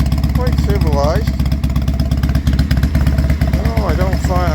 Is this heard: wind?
no